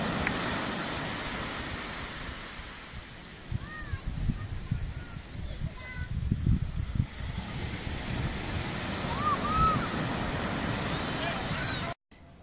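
Ocean waves wash steadily onto a beach at Monte Cristi in the Dominican Republic, with wind buffeting the microphone throughout and a surge of surf near the middle, and a few faint bird calls over the top.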